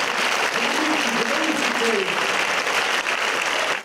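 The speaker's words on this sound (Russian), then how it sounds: "Владимира Санги зал встречал овациями" A hall audience gives a writer a sustained ovation, dense steady clapping throughout with a voice speaking over it.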